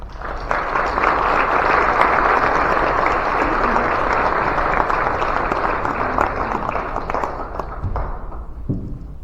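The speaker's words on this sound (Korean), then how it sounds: "이 시간에 나오실 때 여러분 환영의 박수 주시기를 바랍니다" Welcoming applause from a church congregation at a 50th anniversary service, a full steady burst of clapping that swells and then fades away near the end.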